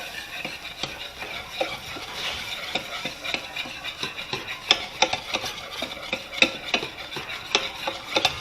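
Caramel corn syrup stirred constantly in a pan, with a steady close scraping and soft bubbling and a spoon clicking against the pan at a brisk, regular pace.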